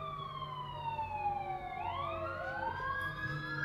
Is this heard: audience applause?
no